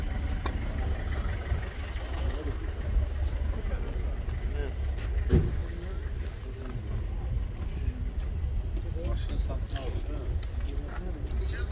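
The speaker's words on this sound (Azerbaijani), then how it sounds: "Maşın çöl səsini göstərək." A 2013 Chevrolet Cruze RS with a 1.4 engine runs at a car market in Sumqayit, its low, steady engine rumble continuing under nearby conversation throughout, with a brief sharp knock partway through.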